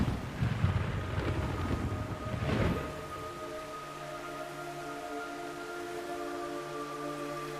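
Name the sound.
rain and thunder in Metal Gear Solid 3 video game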